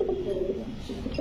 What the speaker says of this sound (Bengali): ভয়ঙ্কর সুন্দর একটা কবুতর দর্শক